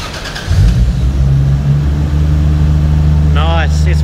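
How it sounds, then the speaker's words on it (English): A Toyota JZX110 car engine turns over and settles into a steady, loud running hum, with a voice speaking briefly near the end. "Ready to start the engine."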